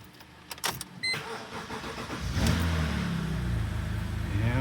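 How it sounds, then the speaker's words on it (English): A BMW Z4 that had trouble starting cranks briefly with clicks and chatter, then its engine catches and settles into a steady, loud idle running continuously to the end. "So let's see if the car will start."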